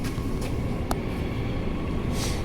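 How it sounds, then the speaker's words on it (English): An Aubin Grove train on the Mandurah Line passes close by as a steady, loud rumble of wheels on rails, with brief higher clanks and squeals over the continuous roar. "there goes the Aubin Grove train as well"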